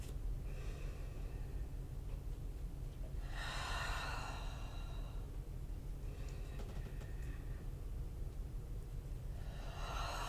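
Deep, slow breaths during a yoga class, with long airy inhale and exhale swells at about 3.5 and 6.5 seconds over a steady low hum and a quiet room.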